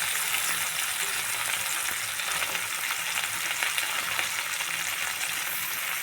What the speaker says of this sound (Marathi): हे फ्राय करून घेऊ चांगला आपण